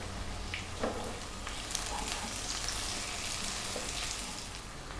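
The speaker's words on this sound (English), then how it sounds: "Now we'll put in the chili and the ginger garlic paste and stir for 3 minutes." Chili and ginger garlic paste frying in a pan for an Indian tilapia fish curry, a dense continuous sizzle like rain on a surface, with faint stirring scrapes throughout.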